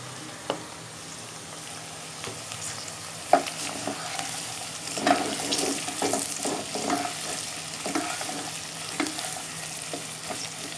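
Okra and onions fry in a pan with a steady broadband sizzle, while a utensil stirs and scrapes, giving sharp clinks and taps at irregular moments over about ten seconds, close and moderately loud.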